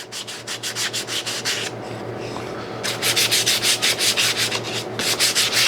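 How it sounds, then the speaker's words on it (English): Wood sanded by hand with 220-grit sandpaper to remove laser scorch marks gives loud rhythmic rasping strokes, close to the microphone, with a brief pause before the back-and-forth scrubbing resumes at a steady pace. "a little bit of sandpaper will take that right off"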